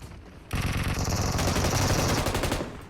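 Sustained automatic gunfire in PUBG Mobile: a rapid, dense burst of shots starting abruptly after a short quiet moment and running loud and continuous for about two seconds before tapering off.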